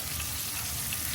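Shrimp fry in hot oil with a steady, dense sizzle and crackle that fills the short stretch evenly, close and moderately loud, with no voices.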